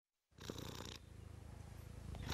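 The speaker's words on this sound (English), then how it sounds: "Then she heard a purring sound." A cat purrs steadily and close up, a soft rhythmic rumble that starts abruptly and continues without pause.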